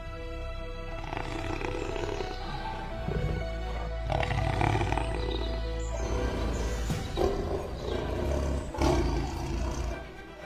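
Lions of a pride roaring in the wild, a sustained deep rumbling that swells and fades over a dense, continuous bed of background sound, with no talking.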